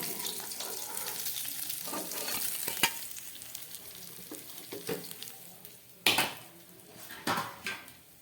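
Pieces of live rohu fish, rubbed with salt and turmeric, fry in hot oil with a steady sizzle, broken by sharp spatter bursts and clinks of a spoon or spatula against the pan.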